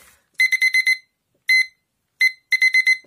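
Electronic kitchen timer beeping in quick bursts: a run of five rapid beeps, a single beep, then one more beep and another fast run, crisp and close; the alarm will not switch off.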